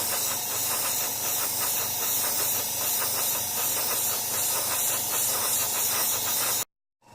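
An airbrush fitted with a 0.3mm needle and nozzle sprays silver paint for scale modelling, a steady close air hiss that runs unbroken for several seconds before cutting off abruptly.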